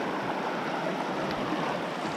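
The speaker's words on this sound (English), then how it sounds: "Wading through the river." Steady rushing flow of a shallow river current swirling around legs while wading during a kayak camping trip, continuous and close with no voices.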